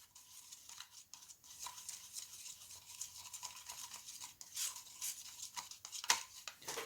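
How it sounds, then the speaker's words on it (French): A utensil scrapes and swirls around the inside of a plastic cup while white resin is stirred, a soft, continuous rubbing at low volume with a faint tick near the end. "celle-là, on la remue pendant 1 minute et on la coule de suite"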